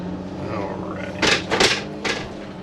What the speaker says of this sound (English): I think we got a door open back there. Yeah, bathroom door's open.